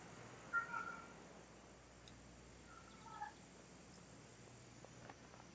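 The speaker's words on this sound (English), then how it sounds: "That's my cat making that sound." A cat named Vader makes a weird, gobbling growl indoors, two short odd calls, faint and somewhat distant against quiet background hiss.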